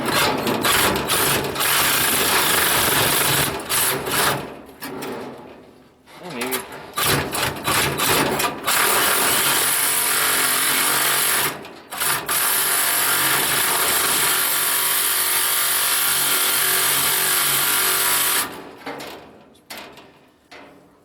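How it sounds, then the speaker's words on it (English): A hand-operated saw fitted with Harbor Freight blades cuts through material while building an off-grid maple syrup evaporator, giving long continuous loud rasping runs broken by short pauses between strokes. "I've never done this much cutting with a saw like this before"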